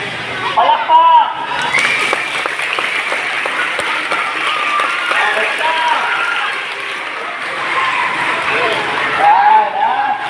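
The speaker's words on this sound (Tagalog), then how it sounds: "Palakpak." Group applause and cheering from a crowd, including children, after an afternoon earthquake drill in Mindanao, a dense steady patter lasting several seconds with a voice speaking over it.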